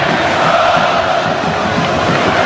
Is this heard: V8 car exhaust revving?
no